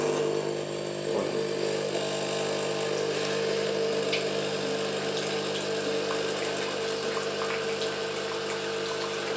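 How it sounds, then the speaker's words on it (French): A Senseo coffee machine runs a two-cup flow of hot water during descaling, giving a steady, continuous pump hum and water rush at close range, with no pauses throughout. "Une fois que la machine est chaude, faites couler pour 2 tasses."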